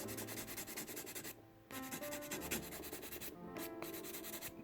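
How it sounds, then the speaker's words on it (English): A nail file rubs across an acrylic nail tip in quick, steady back-and-forth strokes, close and continuous with two short pauses, no voices. "you want to make sure that you're not filing the natural nail"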